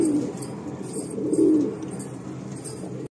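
Breeding-pair pigeons cooing in a low, throaty murmur with a louder swell midway, close and continuous against a faint background hum, with no voices.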